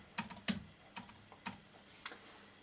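Key presses on a computer keyboard, entering a name with a copyright symbol: about eight to ten light, irregular clicks in short bursts, close and fairly quiet, with no voices.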